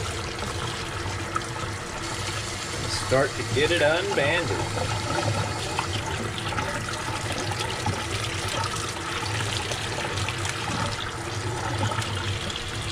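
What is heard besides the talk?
warm water running while rinsing a tie-dye shirt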